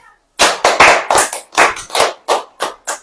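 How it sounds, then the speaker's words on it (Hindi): A church congregation claps in unison, about a dozen loud, sharp claps in a steady, slightly uneven rhythm, close and with no talk over them. "ताली हो जाए"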